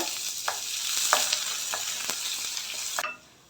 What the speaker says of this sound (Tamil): கடுகு பொரியட்டும் கடுகு பொரிஞ்சதும் கருவேப்பிலை சேர்த்துட்டு